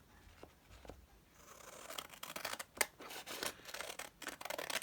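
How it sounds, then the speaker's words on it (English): Scissors cut paper for a handmade journal cover, with short, crisp snips and rustling strokes at close range, soft at first and then quicker and more insistent, with no voices. "I've got that now sort of lined, and then I can cut it out properly."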